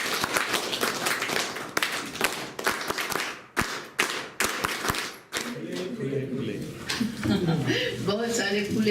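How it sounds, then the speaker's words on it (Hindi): Audience applause at a mental health and Rajyoga meditation workshop in a civil hospital breaks out after a moment of speech, a dense wash of clapping that swells and fades, followed by a voice talking again. "तो उनके लिए हम तालियां बजाएंगे।"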